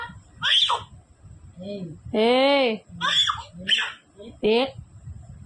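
A child shrieks and wails in several loud, high-pitched bursts, with short pauses between outbursts, close to the microphone.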